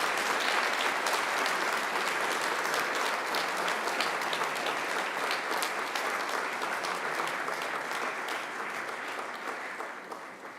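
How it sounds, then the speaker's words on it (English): Graduates at a Macquarie University graduation ceremony applaud their families and friends, a dense, sustained crowd applause that holds steady for several seconds before gradually tapering off. "give them a mighty round of applause"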